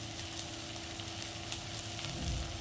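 Coriander powder hits a hot pan of fried onions and ginger-garlic paste for a jackfruit, potato and goat-fat curry, giving a continuous, close sizzle and frying hiss throughout.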